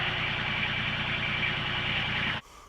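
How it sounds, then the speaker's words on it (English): A small tractor engine idles steadily, a loud, even mechanical drone with a buzzing whine that holds for over two seconds and then abruptly drops away. "We did con the owner into bringing his little tractor in here."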